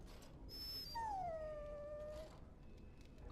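A dog in the video game Dragon Age: Origins lets out one drawn-out, falling whimper, close and clear over a low background hum.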